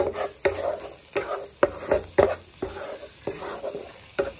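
Kashmiri chili powder stirred into hot oil in a pan, with a series of distinct scraping stirs every half second or so over a soft background sizzle.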